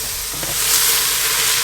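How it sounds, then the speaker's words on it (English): Chopped beech mushrooms sizzling and steaming in a soup pot while being stirred, a loud, steady hiss that swells and holds. "Give those a nice stir so that nothing gets burned or sticks."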